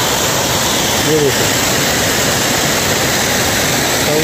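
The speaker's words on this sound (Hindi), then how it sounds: "रास्ते में मिल जाएंगे इतने खूबसूरत झरने" Loud, steady roaring rush of a waterfall beside a mountain road near Chopta, close and constant throughout, with someone talking briefly over it.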